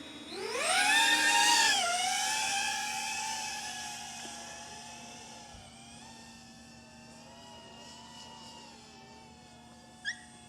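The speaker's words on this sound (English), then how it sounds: "So let's get this drone up in the air and see what we can get here." An FPV drone lifts off with a rising, high-pitched motor whine that surges loudly at first, then settles into a steady buzzing hum as it flies away over a coastline, with a brief sharp blip near the end.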